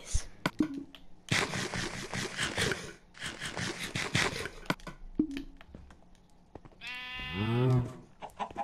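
A sheep in Minecraft Skyblock gives one loud, close, wavering bleat near the end, after stretches of blocky scraping and clicking game sounds.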